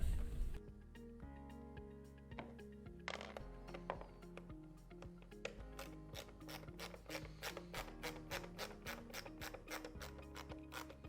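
A ratchet snugs screws on an ice dispenser cap of a Whirlpool or KitchenAid refrigerator, producing a fast, even run of close, crisp clicks that repeats back and forth for about eleven seconds.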